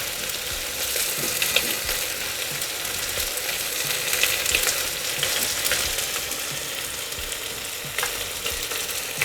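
Spices with ginger, coriander powder, turmeric and chilli sautéed in a pan for masale bhat give a continuous close sizzle and frying crackle, with occasional stirring scrapes and clicks throughout, no voices.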